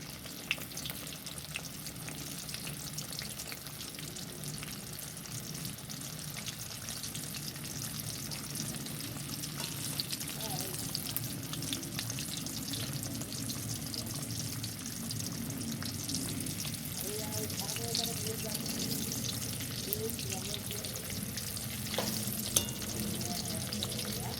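Shrimp cutlets fry steadily in hot oil in a home kitchen, giving a continuous close sizzle with dense crackling and occasional faint utensil clinks throughout.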